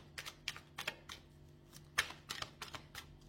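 Tarot cards are shuffled and drawn, a quiet series of quick, crisp flicks and taps scattered close by with no talking.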